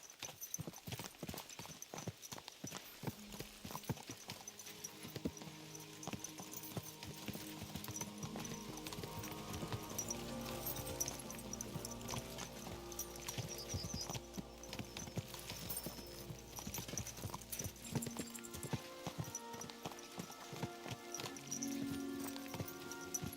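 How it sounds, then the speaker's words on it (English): Horses gallop in Kingdom Come Deliverance II, a medieval action role-playing game, with a steady stream of rapid hoofbeats running the whole time under a busy layer of music and ambient sound, and no talking. "Let's really spur these horses on, eh?"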